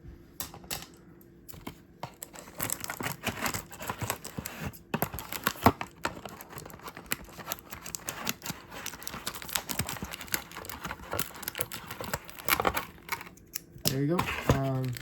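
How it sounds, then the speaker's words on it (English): Scissors snip through plastic packaging to free the accessories of a Transformers Studio Series Leader Class Astrotrain toy, with crinkling, rustling and dense clicky cutting sounds close by for about fifteen seconds. "Alright, let's cut out his accessories."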